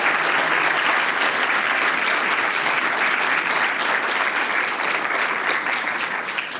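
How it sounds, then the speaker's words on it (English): A big round of applause from the audience for 3-minute thesis candidates at a university final, loud, dense and continuous clapping filling the whole stretch without pause. "Can I ask the audience to give all of them a very big round of applause?"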